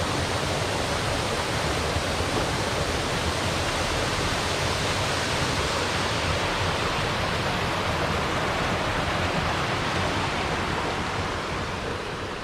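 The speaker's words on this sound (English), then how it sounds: "That's a pretty waterfall." A waterfall in the Adirondacks along the Sawteeth scenic route in late October, a continuous dense roar of falling water, steady and loud with no voices.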